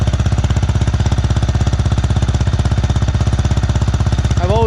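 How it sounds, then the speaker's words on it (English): Yamaha Raptor 700R four-stroke ATV engine running close up, a loud, rapid, even thumping idle with a chugging pulse, briefly rising in pitch at the very end. "that 4-stroke noise sounds really good"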